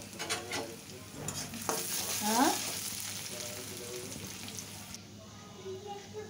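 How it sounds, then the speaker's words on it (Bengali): Dried chillies frying with a pinch of salt in a pan, crackling and sizzling while being stirred, the sizzle steady and moderately loud with stirring scrapes and a few clinks. "এই যে দেখেন শুকনা মরিচ ভেজে নিচ্ছি"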